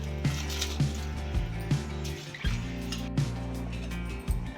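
Rice and lentils boiling in a pot for katte pongali, a festival prasadam with cashews, bubbling and popping in soft repeated bursts over a steady low hum, close and moderately quiet.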